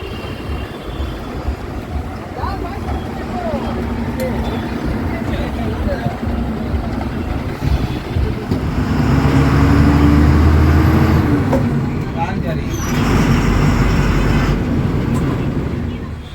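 A tourist bus engine rumbles as the bus pulls out of a parking yard, a steady low drone that swells louder midway and then eases off, with a voice speaking over it.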